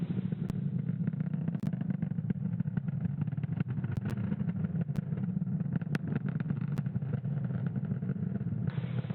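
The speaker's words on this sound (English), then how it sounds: "Falcon 9 has successfully lifted off from Space Launch Complex 40 from the Cape" A Falcon 9 rocket lifts off from Space Launch Complex 40 at Cape Canaveral on a Starlink mission, a steady, dense low roar with crackling texture that holds loud and unbroken throughout.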